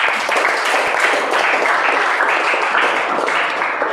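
Students in a classroom clapping together, a dense, close and loud burst of applause that holds steady throughout without speech over it.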